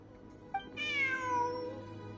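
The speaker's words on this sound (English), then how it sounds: "Oh, the cat." A cat in the video game Genshin Impact gives a single clear meow, a short chirp then a drawn-out falling call, heard up close over a quiet ambient game background.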